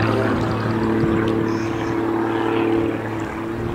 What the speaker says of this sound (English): You've got a biplane with a propeller and two jet engines.